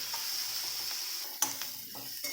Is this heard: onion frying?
yes